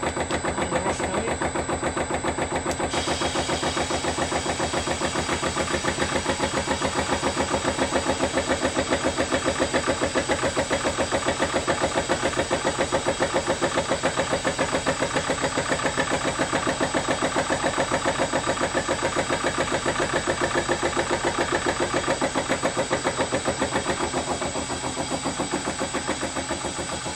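Tractor engine idling steadily at about 700 RPM in a shed, a loud continuous mid-pitched rumble with an even throb throughout and no talk.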